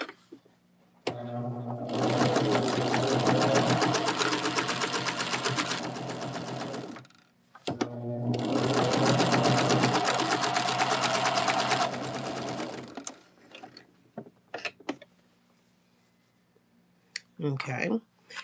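Two long bursts of a sewing machine stitching quilt block pieces cut from scraps, a steady rapid whir near and loud, separated by a brief pause and followed by scattered clicks and handling noises.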